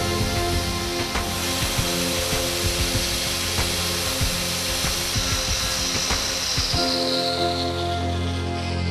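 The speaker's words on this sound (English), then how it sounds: "Then the material is sanded down 1 millimeter over a width of barely 20 millimeters at both ends." Plastic material on a damaged part being sanded down for repair, a continuous loud rasping scrub with a rhythmic back-and-forth texture and a steady machine hum underneath.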